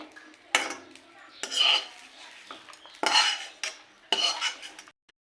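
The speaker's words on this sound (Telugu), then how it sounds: "అదే బాండీలోకి మనం టమాటాలు అనేవి వేసేసుకుందాం" Tomatoes go into a frying pan that already holds fried green chillies, for a tomato roti pachadi, producing several bursts of clattering and scraping as a spoon pushes them around, with gaps between strokes and only a faint sizzle.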